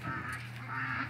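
Geese honk from a farmyard flock, a harsh nasal honking that rises and fades across a brief stretch over steady low background noise, with chickens and ducks nearby.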